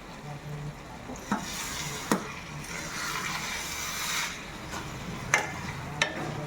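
Cashews being stirred into carrot halwa in a pan, a steady soft sizzle with a few sharp scrapes and clinks of the spoon against the pan.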